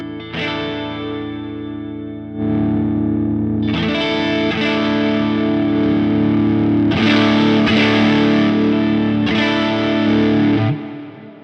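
Distorted electric guitar run through a Quad Cortex modeler with input gain set to -24 dB, playing loud sustained chords in several strummed bursts with a brief dip early on, ending abruptly with no voices.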